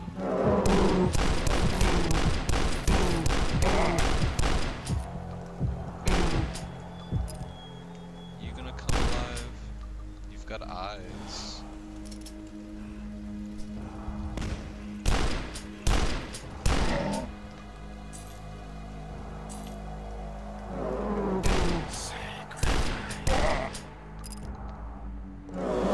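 Shotgun blasts in the retro first-person shooter Dusk, loud and close, with rapid bursts of heavy booming shots in clusters and brief pauses between volleys.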